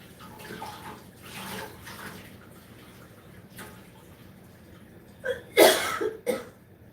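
After a long quiet stretch, a person coughs a few times in quick succession near the end, close and fairly loud.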